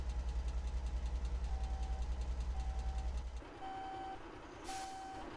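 A truck hauling a trailer backs up in the driving game Alaskan Road Truckers: a steady, evenly spaced reversing beep sounds over a loud, throbbing diesel engine that drops to a quieter idle partway through.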